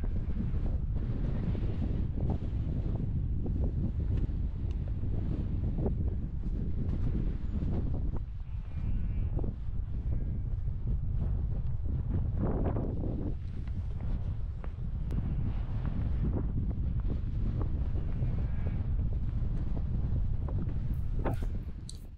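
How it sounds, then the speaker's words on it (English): Strong, steady wind buffets the microphone throughout, a loud continuous low roar with gusty surges and no voices, on the Ingleton Waterfalls Trail in the UK. "how windy it's got"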